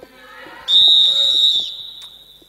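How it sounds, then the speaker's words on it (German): A referee's whistle blows for half-time at a handball match, one long shrill blast of about a second, loud and close over faint arena murmur. "Und da ist der entscheidende Pfiff zur Halbzeit, 16-7 für Grün-Weiß Schwerin."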